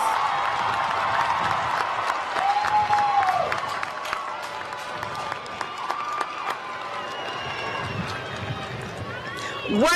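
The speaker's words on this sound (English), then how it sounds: "give your families and loved ones a resounding round of applause" Graduates at a spring commencement ceremony applaud their families in a large hall, a steady, dense wash of clapping that fills the whole stretch, with some crowd murmur and brief voices mixed in.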